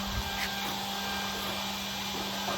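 A Webasto Airtop 2000 heater fitted in a Citroen Ami spins up its fan, a steady whirring drone with a constant hum, moderately loud and close, with no talk over it.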